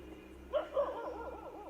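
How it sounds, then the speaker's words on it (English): A group of dogs outdoors at night barks repeatedly, with two sharp close barks giving way to a wavering, whining howl-like yelping that continues steadily to the end. "The footage depicts a group of dogs outside Oh, the barking incessantly at something"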